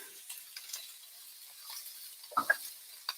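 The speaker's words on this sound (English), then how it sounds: "Now things are sizzling." Onions cooking in a pan give a faint, patchy sizzle, broken by a few soft scrapes and pops as they are stirred and pushed around, with brief louder crackles near the end.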